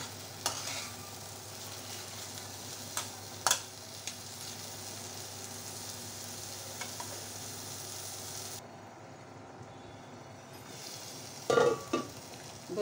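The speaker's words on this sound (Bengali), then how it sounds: "মাংসগুলো ভালোভাবে কষিয়ে নেব। আমি প্রায় 8-10 মিনিট কষিয়ে নেব।" Pieces of meat sautéed in a pan, with a continuous sizzle under repeated scraping strokes of a spoon stirring them, and a few sharper knocks against the pan.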